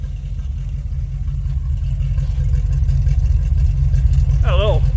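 A car engine with a suspected misfire and a failed oil pressure switch runs with a steady low rumble, loud and close, while a voice briefly talks over it.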